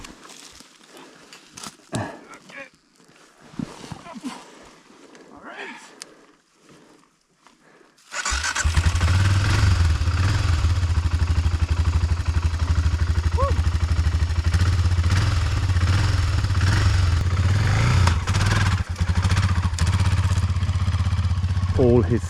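A Honda CRF off-road motorcycle engine fires up after quiet footsteps and clatter, then revs loud and close in a steady, sustained roar.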